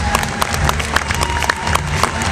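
A holiday concert audience applauds the singers, a dense steady patter of many hands clapping with scattered louder claps throughout, no speech over it.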